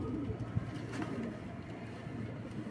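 Pigeons cooing softly at a moderate distance, low murmuring calls repeating over a steady background hum, with no voices.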